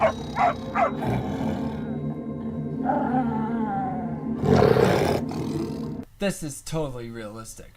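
An animated puma lets out a deep, sustained roar in a dramatic film scene, loud and close, rising and fading over several seconds, with a voice talking before and after it.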